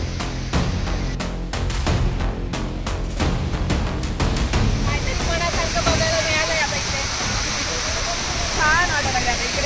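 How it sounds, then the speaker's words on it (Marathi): Monsoon waterfall at Matheran pours in a constant heavy rush, with people talking over the water and thumping handling noises early on. "छान वाटत लागलं आता इकडे धबधबा बघून."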